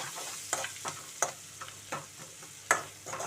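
Prawns, onions and curry leaves frying in a pan, with a continuous soft sizzle broken by several sharp scrapes and clinks as a spoon stirs, close and without talk.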